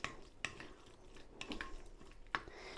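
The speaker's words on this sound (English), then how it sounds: "So I'm putting in some celery, and I'm also doing a bit of radishes. There we go. Let's mix that together." Egg mayonnaise with chopped celery and radishes being stirred together in a bowl: a few sharp spoon clinks against the bowl spaced out between soft, quiet mixing scrapes, close by with no talking.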